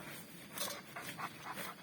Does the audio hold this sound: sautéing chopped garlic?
no